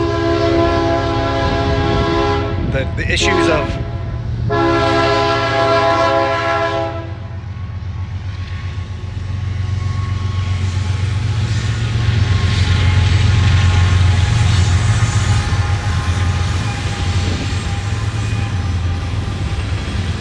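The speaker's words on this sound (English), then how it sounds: "hold on, here comes a train." A train rumbles past close by, its horn blaring in a loud chord for several seconds before the heavy rolling noise continues steadily to the end.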